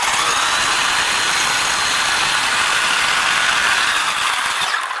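A Redcat Blackout XTE RC truck runs up close, giving a loud, steady mechanical whir and ratcheting buzz from its steering and drivetrain that holds without a break and drops off right at the end.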